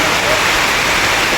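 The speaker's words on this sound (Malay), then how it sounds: "Hujan guys." Steady hiss of rain pouring down at a boat landing in Kampung Senari, close and continuous, with no break across the short moment.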